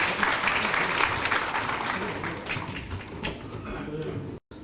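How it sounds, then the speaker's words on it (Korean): An audience at a graduate school entrance ceremony and orientation applauds to welcome the student council president, steady broad clapping from a large crowd that fills the room, then cuts out briefly near the end. "큰 박수로 맞이해 주시기 바랍니다."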